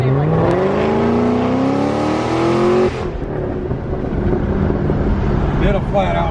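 A car engine roars loudly through a Corsa exhaust, holding a high, climbing rev for about three seconds before dropping off into a rougher, lower rumble, with voices faintly underneath.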